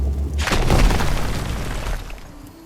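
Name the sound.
exploding rocks in RuneScape Dragonwilds video game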